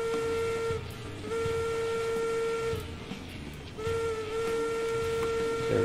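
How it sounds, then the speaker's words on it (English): Steam locomotive whistle in the train simulation game Railroads Online, sounded in two long steady blasts with a short break, loud over the rumble of the moving engine. "I feel like it's necessary to whistle when we're out of town kind of thing."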